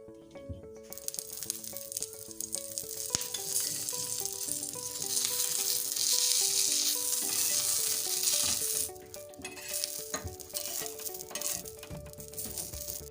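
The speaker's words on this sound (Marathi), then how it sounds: "आता आपण मिरचीत थोडं तेल टाकून घेऊ" Green chillies sizzle steadily in oil on a tawa, a continuous bright frying hiss with faint background music tones, swelling in the middle and easing back toward the end.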